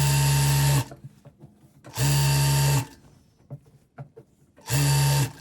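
A sewing machine stitching the edge of pants runs in three loud, steady bursts of buzzing motor hum, separated by quieter pauses with light handling clicks.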